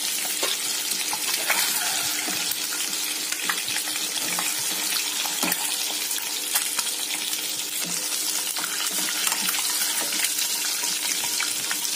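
Egg soup ingredients fry lightly in a pan, a steady close crackling sizzle with scattered pops and occasional stirring scrapes, continuous and without talk.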